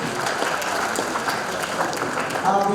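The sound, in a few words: audience applause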